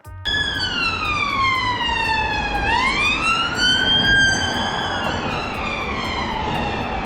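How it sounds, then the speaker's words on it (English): An unmarked police car's siren sweeps past on a run-down post-war street in northwest England, a loud continuous wail that falls and then rises again as the vehicle goes by close to the listener. "this unmarked police car went by"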